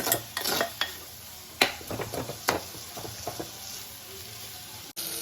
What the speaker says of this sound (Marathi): कांदा चांगलं भाजून घ्यायचो